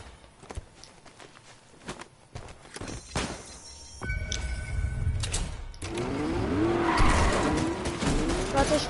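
Video game car driving and skidding, with a rising engine roar and a long tire screech building toward the end after scattered thumps and clatter; the game sounds are fairly loud and no one talks.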